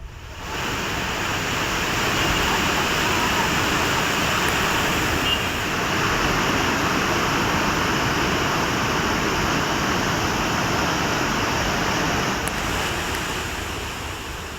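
A flash flood roars through the Panchalinga waterfall and surrounds a temple, a loud, steady broadband rush of water that holds evenly throughout with no voices.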